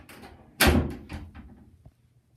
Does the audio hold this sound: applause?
no